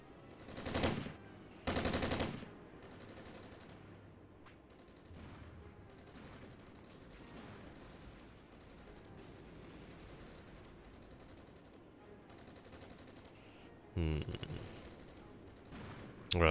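Gunfire and machine gun bursts in the video game Armored Brigade: a few loud rattling volleys up front and near the end, with a faint steady crackle of distant fire between them.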